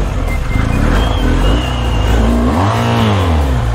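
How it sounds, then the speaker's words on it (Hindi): An off-road motorcycle on a trail at Shivar Motor revs hard and skids, its engine note loud and close, rising and falling as the rear wheel slips. "ये पहले से स्कीड मार रही है बाइक।"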